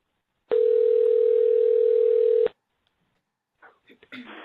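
A telephone ringback tone, a single steady two-second electronic beep loud and close, followed by silence and then the start of a voice on the line.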